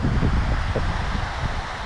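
Wind gusts buffet the microphone outdoors during a fishing session with a light baitcasting reel, giving a loud, continuous rumbling rush with leafy rustling.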